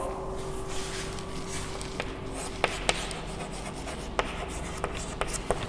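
Pen or pencil writing on paper during a math lesson, soft continuous scratching with a few sharp taps spaced unevenly, heard close over a steady background hum.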